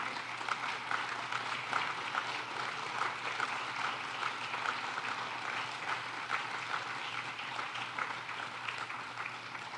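At a season ring banquet for the Potawatomi Fire, a roomful of people claps steadily for the young athletes, a sustained soft wash of applause heard from a distance at low level and without talk.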